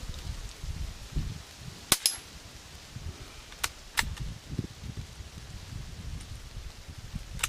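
A Remington 510 Targetmaster .22 bolt-action rifle with a 26-inch barrel fires outdoors; a few sharp, light cracks stand out, one double report near the start and two more later, over quiet breezy ambience.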